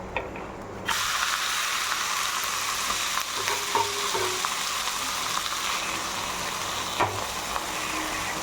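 A green gram snack sizzles and crackles in hot oil in a pan as it is flipped over, with a steady frying hiss and a few sharp clatters of the spatula against the pan.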